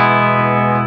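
An electric guitar played through a Jamtastik effects pedal holds one steady, buzzing, harmonically rich note for under a second, loud and alone.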